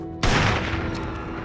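A sniper rifle shot in the mobile game Sniper 3D, a single sharp, loud blast that strikes suddenly and then rings out in a fading, reverberant tail.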